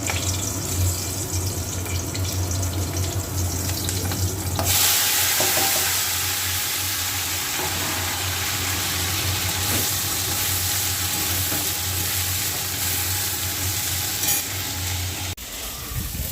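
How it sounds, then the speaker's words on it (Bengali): Vegetables, brinjal and potato, fry in a wok (kadai) tempered with five-spice, giving a loud, steady sizzle with occasional stirring clatter. The sizzle continues unbroken and close by, with no talking. "দেখো এবার সবজিগুলো সব ভালো করে ভেজে নেবো।"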